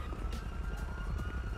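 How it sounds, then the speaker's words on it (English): Police sirens in GTA 5 wail faintly in the distance, a steady rising-and-falling tone over low background rumble. "I already hear the sirens."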